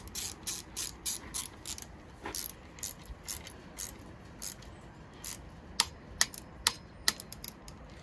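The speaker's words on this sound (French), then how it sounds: "Donc là, on serre jusqu'au clac." Bicycle headset screws being tightened with a tool, giving a run of dry ratcheting clicks through the first half and a few sharper, louder clicks near the end, close up with no talk.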